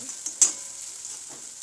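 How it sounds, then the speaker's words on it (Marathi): Onion sautéing with curry leaves in a pan for bitter gourd sabzi, a steady soft sizzle with a couple of brief stirring scrapes near the start, close and fairly quiet. "आपण कांदा छान परतून घेऊ."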